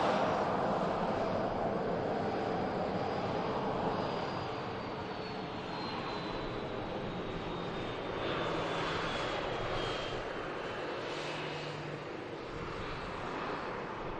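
A plane landing at Manchester Airport, heard as a continuous broad engine roar with a slowly falling whine, steady and moderately loud throughout at a moderate distance, with no talk.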